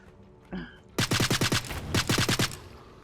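Gunfire in the Night of the Dead video game comes as a loud, close burst of rapid automatic shots in two quick volleys, after a brief single sound before them.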